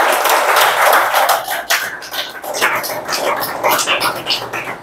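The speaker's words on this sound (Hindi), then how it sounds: "इनके लिए एक जोरदार ताली होनी चाहिए।" A crowd claps loudly and steadily for the director at a physiotherapy day celebration, a dense wash of applause that runs nearly the whole time with a brief dip in the middle.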